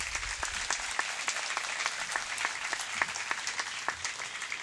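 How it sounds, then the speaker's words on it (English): Applause fills a university convocation hall: many hands clapping in a brisk, steady patter with individual claps standing out, moderately distant and continuous throughout. "Clap for yourself."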